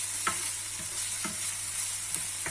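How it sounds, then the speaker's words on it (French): Onions sautéing in a frying pan give a steady, close sizzle with a few soft scraping stirs, and nobody speaks. "On va faire revenir nos oignons."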